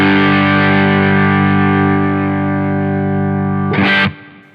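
An electric guitar run through a Line 6 Helix modelling a Soldano SLO-100 with the drive pushed sustains one thick, distorted chord, loud and close. The chord rings steadily, then ends in a short scrape and a quick cutoff.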